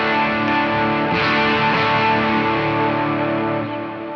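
An electric guitar rings through the boost setting of a Chaos Audio Stratus multi-effect pedal, a sustained, bright, slightly driven chord that holds steadily, then starts to fade near the end, with no talking.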